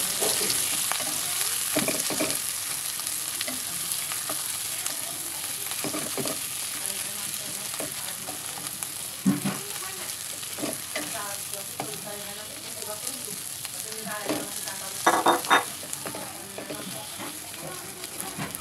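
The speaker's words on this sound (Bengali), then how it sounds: "আগে থেকে বেটে রাখা সবজি দিয়ে ভালোভাবে মিশিয়ে নিতে হবে কালো জিরা ও ঝালের সঙ্গে।" Mashed mixed vegetables fry and get stirred in oil with nigella seeds and chili, a steady sizzle running throughout with scraping stir strokes and a few louder clatters near the end.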